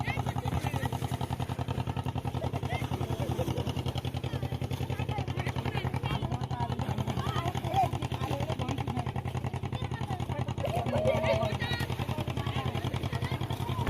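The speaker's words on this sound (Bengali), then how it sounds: "দেখতে পাচ্ছ মাঝখান দিয়ে একটা নৌকা চলে যাচ্ছে" A boat's motor drones steadily on the Ichamati river, a low continuous throb holding at a constant, fairly close level for the whole stretch with little change as the craft passes.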